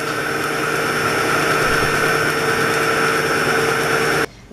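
An electric mixer whirs steadily as it beats cream cheese batter for an Oreo cheesecake, a loud continuous motor hum with a bright whine that runs unbroken before cutting off abruptly near the end.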